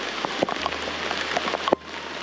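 Heavy rain pours down at a campsite in Peña del Aire, Hidalgo, Mexico, a dense, steady hiss of drops with a few sharper close splashes and thuds.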